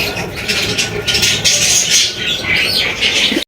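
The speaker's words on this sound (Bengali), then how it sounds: "এখানে আরো একজোড়া লাখা কবুতর রয়েছে" Lakha pigeons at a pigeon seller's, heard as a busy mix of bird chatter, squawks and wing flutters running throughout, fairly close, with no talk.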